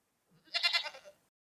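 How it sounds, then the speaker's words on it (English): A single goat bleat, wavering and fairly close but softer, starting with a low grunt before the main cry of under a second. "Goat."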